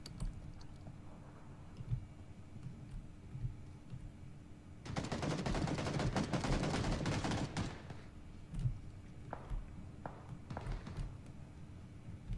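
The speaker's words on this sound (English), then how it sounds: "they're shooting that from inside the house or from across the way" Burst of automatic gunfire in the video game PUBG, a loud sustained volley of rapid shots lasting about three seconds, followed by a few scattered single shots and clicks.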